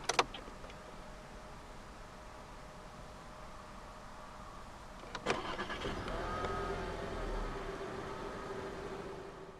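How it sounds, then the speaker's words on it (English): A key clicks, then the 1.4 EcoTSI engine of a 2016 SEAT Leon ST cranks and catches, settling into a low, steady idle hum. "To start the Leon, put your foot on the brake, insert the key into the slot right here"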